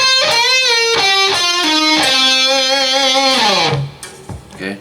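An electric guitar plays a slow solo line with bent, sliding notes and a distorted tone, trailing off into quiet picking.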